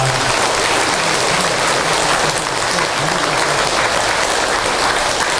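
Steady, dense applause from an audience at a Buddhist memorial ceremony, honoring a senior monk after his sermon, loud and continuous throughout.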